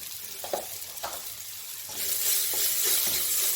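Softened fenugreek leaves sizzle in a pan as they are stirred with salt and turmeric. Faint scraping strokes come early on, then the frying hiss swells louder and steadier, close by and with no talking.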